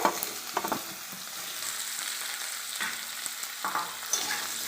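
Eggplant and potato pieces fry together in a pan with a soft, steady sizzle. Several light clinks and scrapes of stirring are heard up close.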